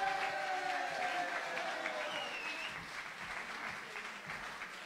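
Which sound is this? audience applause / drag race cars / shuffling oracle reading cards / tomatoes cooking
audience applause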